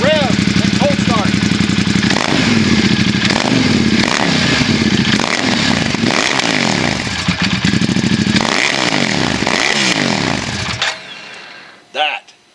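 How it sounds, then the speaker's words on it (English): A Ducati XDiavel S with a Termignoni exhaust idles after a cold start, loud and close, and gets several sharp throttle blips that rise and fall in pitch. The engine cuts out near the end and a voice is heard. "here's the XDiavel S Termagani exhaust. There's cold start and idle. Give it a little bit of a rev and cold start."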